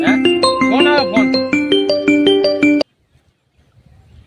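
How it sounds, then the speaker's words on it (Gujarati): Phone ringtone plays a loud, bright electronic melody of rising and falling notes close by, then stops abruptly and leaves near silence. "હે ફોન આવ્યો ફોન."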